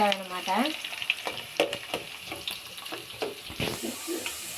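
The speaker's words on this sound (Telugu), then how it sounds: "ఉల్లగడ్డ వేసుకున్న తర్వాత ఎర్రగయ్యేంత వరకు ఇలా కలిపేసుకోవాలన్నమాట" Onions fry in oil in a pan while being stirred, giving a soft sizzle with scraping and clinks of the spoon, fairly close and moderately quiet, with a voice briefly audible at the start.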